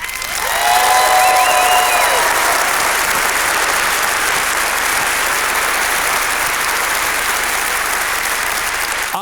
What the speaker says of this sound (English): Give him a motivational round of applause.